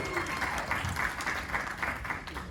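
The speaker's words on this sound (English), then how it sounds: "let's get a round of applause" Game show audience gives contestants a round of applause as they come onto the stage for the final round, fairly faint steady clapping with some talk underneath.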